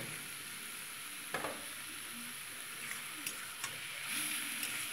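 Prawns go into a pan of pea shoot greens, and a soft, steady sizzle of frying follows, with a few faint scrapes and clinks of stirring.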